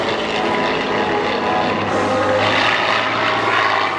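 A small, compact, powerful propeller fighter plane roars at an air show as its engine throttles up, a loud steady drone filling the whole clip without any talk.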